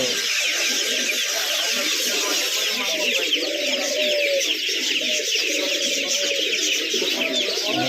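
Birds at a market bird shop coo and chirp continuously, dense and fairly loud, under a busy background of chatter and market noise.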